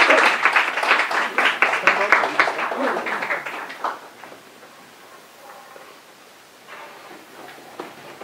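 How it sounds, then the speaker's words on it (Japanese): A church congregation applauds to welcome a guest speaker, with brisk, dense clapping for about four seconds before it thins and fades into quieter room sound. "拍手を持って、高橋和也先生をお迎えしました"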